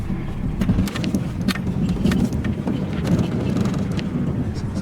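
A car driving slowly along a rough track toward a small cabin on rural acreage, a steady low rumble with wind buffeting the microphone and tyre crunch throughout, fairly loud and continuous.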